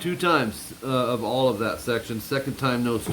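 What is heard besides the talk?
No everyday noise stands out behind the speech.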